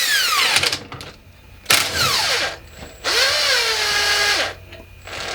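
Power tool, likely an impact wrench or drill, working on the lower strut bolt of a MacPherson strut car, in three loud whirring bursts with rising and falling pitch and short pauses between them, with no talk.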